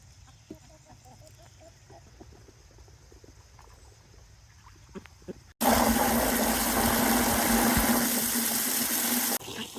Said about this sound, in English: See if I can talk over the hose while I fill these waters.